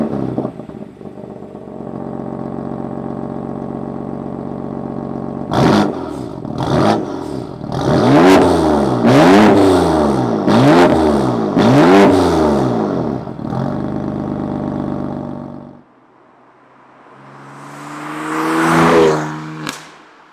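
A BMW M3 F80 sedan with its original 431-horsepower engine idles with a deep hum, then is blipped through a rapid series of sharp, loud revs that rise and fall, before easing off and surging once more.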